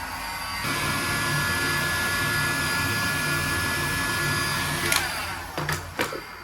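A heat gun blows a steady, loud whooshing roar while heating PVC to soften it, holding continuous for several seconds before a few brief knocks and handling clicks near the end.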